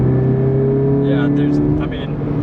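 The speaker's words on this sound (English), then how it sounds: "I'm at 4 grand right now, RPMs, floor it, not much is happening" A 2013 Scion FR-S with a manual gearbox pulls under full throttle from around 4,000 rpm, a steady droning engine tone inside the cabin that rises slightly, with someone talking over it.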